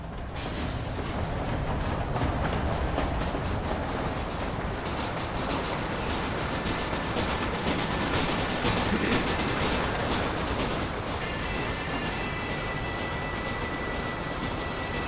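Steady rumble and rhythmic clatter of a steam-era passenger train rolling along rails in Red Dead Redemption, continuous and close throughout with no talk.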